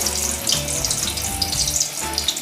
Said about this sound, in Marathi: आता मी भजी कढईमध्ये टाकायला आल्या आता ही आपण तळून घेऊया